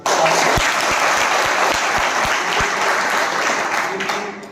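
Thunderous applause from an audience of hostel students and guests at an education talk in Barwani, dense and loud throughout, with a few sharp claps and knocks standing out and a faint voice underneath.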